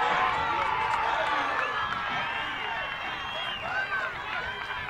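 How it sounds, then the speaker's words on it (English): A crowd cheers at a sixth-grade youth football national championship game: many overlapping voices shout and whoop in a steady, moderately loud wash of noise. "the crowd here is enthusiastic, a lot of noise representing Maryland"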